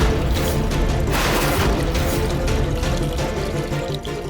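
Water is poured splashily into a bucket in an indoor domestic scene, a loud, close, continuous gush and slosh that tapers off slightly toward the end, with no voices.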